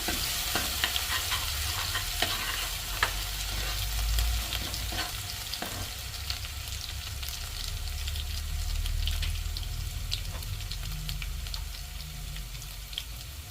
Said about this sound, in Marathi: आता आपण त्याच्यामध्ये ठेचलेलं आलं आणि लसूण आहे ते टाकून घेऊया. आणि छान प्रकारे परतून घेऊया.